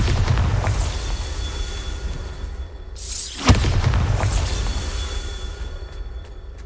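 A Bombarda blasting spell explodes in a video game: a rising whoosh builds, then a single sharp booming impact lands mid-clip over a steady, loud rumbling game backdrop.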